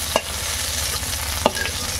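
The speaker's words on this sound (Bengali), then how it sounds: "এরপর বাকি থাকলো পুঁই শাকটাও ভেজে নিচ্ছি।" Malabar spinach leaves frying in oil in a pan for a village-style Bengali labra, with a steady low sizzle and two sharp spatula stirring knocks against the pan.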